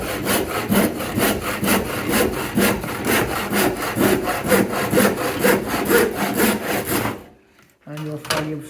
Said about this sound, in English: use full length strokes on the saw. Cut through.